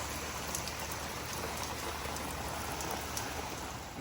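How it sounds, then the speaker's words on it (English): Heavy Florida rain pours down steadily in an even, dense hiss with scattered sharper drops, fairly soft and continuous, with no voices. "in typical Florida fashion, we are getting poured on."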